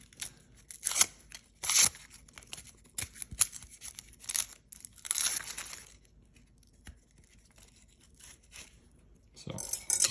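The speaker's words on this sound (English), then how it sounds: "So I'm going to just cut through the outer layer and peel that off as well." A chef's knife slices through and peels the outer layer of an onion on a cutting board, giving several short, close crunchy cuts and tearing scrapes with quiet pauses between them.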